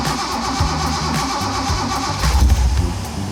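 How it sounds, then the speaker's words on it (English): A Mazda Miata engine, just reinstalled after repair, cranks and catches, then settles into a loud, steady mid-pitched idle close to the listener, with a brief swell in revs near the end. "the engine is back in the Miata and it's running really good"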